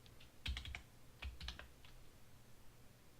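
Someone types on a computer keyboard in a quiet room. Two short bursts of close keystrokes are followed by a few scattered, softer taps, all faint and with no talking.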